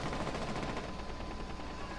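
Rapid gunfire from the video game Rainbow Six Siege plays at low level in a dense, continuous burst of closely spaced shots for about two seconds.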